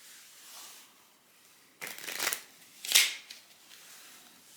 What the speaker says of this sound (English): I'm going to lose that card somewhere in the deck and just shuffle it